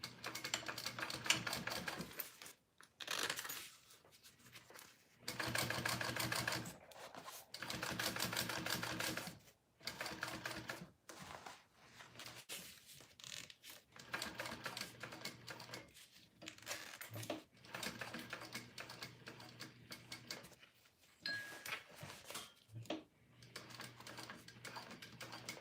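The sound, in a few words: sewing machine sewing around a pocket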